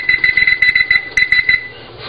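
A kitchen timer alarm beeps while bacon mushroom garlic burgers are being cooked, giving a loud, rapid run of shrill electronic beeps in a steady repeating rhythm before it cuts off, followed by a brief thump.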